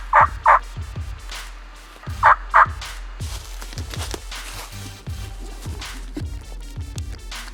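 Wild turkey gobbling on a spring turkey hunt, with rapid paired gobbles at the start and again after two seconds, followed by a series of quieter thumps and calls, loud and close outdoors.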